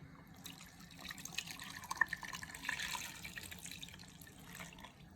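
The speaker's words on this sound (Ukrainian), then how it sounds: "І все це гарно перемішуємо і виливаємо з наших пельменей." Sour cream, water, salt and pepper sauce poured over dumplings in a pan in a village kitchen: a soft, quiet liquid pour with light splashes and drips, no voices.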